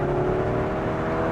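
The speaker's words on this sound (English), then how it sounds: "There are different engine sounds you can get, and they're very different from one another." Simulated engine sound from a Hyundai Ioniq 5 N under acceleration: a loud, steady droning hum with a rising whir, close and continuous, with no talk over it.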